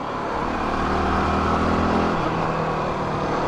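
A supermoto motorcycle engine drones steadily while riding, a close, continuous hum with wind rush over it, the pitch shifting slightly partway through as the rider changes speed.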